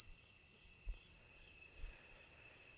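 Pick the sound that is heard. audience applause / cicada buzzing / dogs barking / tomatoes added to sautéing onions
cicada buzzing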